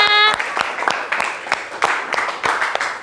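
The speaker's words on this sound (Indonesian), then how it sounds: "Tepuk tangan semuanya." A classroom of students claps at the end of a teaching lesson, several sharp irregular claps rather than sustained applause, with speech heard around the clapping.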